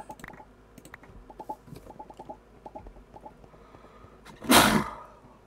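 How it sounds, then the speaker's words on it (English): A single big, explosive sneeze bursts out loud and close near the end, after a stretch of soft scattered keyboard clicks and faint background sounds. "Whoa, big sneeze."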